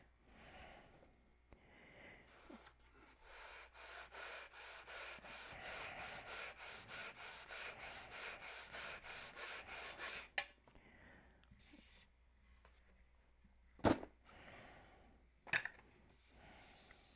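Wood held in a cradle is sanded by hand in quick, regular back-and-forth strokes, soft and close. A few sharp knocks follow once the sanding stops.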